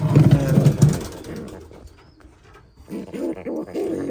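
White racing pigeons coo close by in low, throaty bursts, a lively run at the start, a quiet gap in the middle, then more cooing toward the end.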